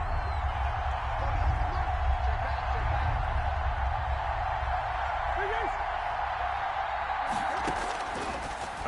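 Steady roar of a stadium crowd at a football game ahead of a big third down, a dense continuous wash of voices at constant level, with a few sharper bursts near the end.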